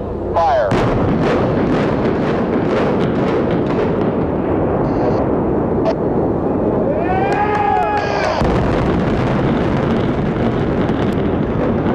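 Demolition charges bring down the Sands Hotel casino in a 1996 implosion, a loud sustained rumble of blasts filling the whole stretch, with crowd voices and wind buffeting the microphone throughout.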